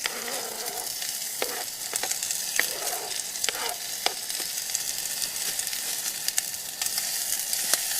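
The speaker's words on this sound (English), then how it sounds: "Fry that off for about 5 minutes just to make sure that it's well cooked." Onion, ginger and garlic fry in a camp pan with a dense, continuous sizzle close by, punctuated by frequent sharp clicks and scrapes of stirring.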